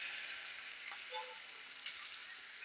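Soft, steady sizzle of onions frying in a pan, a faint crackling hiss with no talking.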